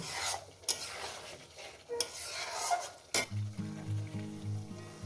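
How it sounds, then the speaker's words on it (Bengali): Masala for a katla fish curry, with coriander leaves added, is stirred and scraped in a pan with a few sharp clinks of the spoon, then a low, steady tonal hum takes over near the end. "মশলাটাকে এত সুন্দর কষিয়ে নিয়েছি"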